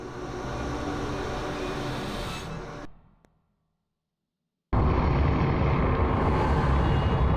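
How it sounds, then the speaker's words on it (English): Heavy rumbling train in Alice: Madness Returns, a loud continuous roar that fades out into near silence, then bursts back in abruptly at full loudness. "The Infernal train."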